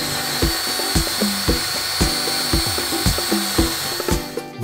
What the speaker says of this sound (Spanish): vamos a proceder a lo que es pulir toda la parte del hueso